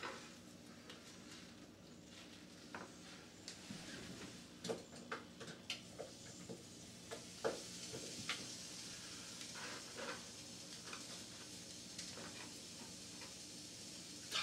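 Onions and peppers frying in oil in a new pan, a quiet steady sizzle with scattered clicks and scrapes of stirring, faint and close with no talk.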